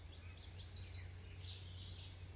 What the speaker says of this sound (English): this is my actual phone outside when I'm listening to birds